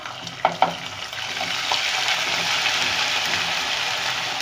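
Steady sizzling of garlic-ginger paste frying with onions in hot oil, with a couple of sharp clinks from a utensil near the start, continuous and close.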